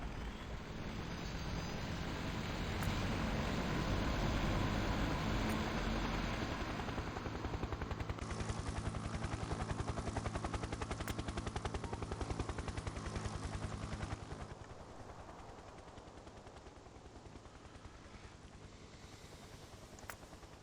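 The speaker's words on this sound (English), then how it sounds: "these helicopters are such a nice mod" Helicopter from the Factorio helicopter mod in the video game, a steady close rotor and engine drone with a fast rhythmic chop, holding loud for about fourteen seconds before easing to a lighter hum.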